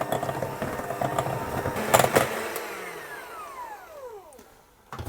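Ground almonds being mixed into apple almond tart batter by an electric mixer, a steady whirring motor drone with a brief clatter near the middle and a falling pitch as the beaters slow and stop.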